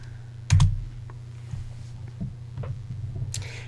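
Light typing on a computer keyboard as a web address is entered, a sparse series of soft close key clicks with one sharper tap early on, over a steady low hum.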